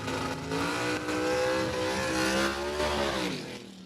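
Drag race launch between a 1956 Chevrolet and a 1949 Studebaker pickup at Farmington Dragway, engines roaring loudly and steadily with rising revving tones throughout, close and continuous without speech.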